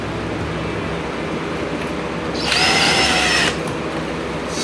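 A power drill whines up briefly, driving a screw that fixes window screen onto the body of a 1974 International Travelall during autobody repair. The single steady burst sits over a constant background hum, with no talk.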